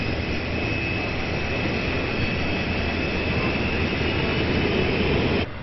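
A CF-18 fighter jet with two engines of 16,000 pounds of thrust each gives a continuous, even roar with no pauses and no voices.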